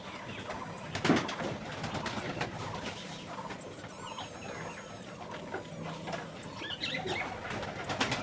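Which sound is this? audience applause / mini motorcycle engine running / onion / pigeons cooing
pigeons cooing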